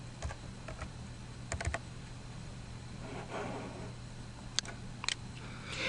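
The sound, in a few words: typing on a computer keyboard to enter a sale amount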